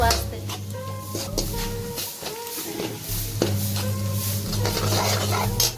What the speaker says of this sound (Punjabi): ਤੜਕਾ ਜਿਹੜਾ ਹੈ ਜੀ ਭੁੱਜ ਗਿਆ ਹੈ